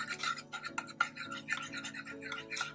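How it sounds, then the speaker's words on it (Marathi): Curd and sugar are whisked in a bowl with quick, rapid scratchy strokes against the sides, close and faint, with no talking over it. "परत हे मस्त असं फेटून घ्यायचं आपल्याला"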